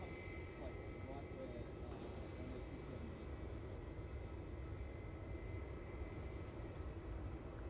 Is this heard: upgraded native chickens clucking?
no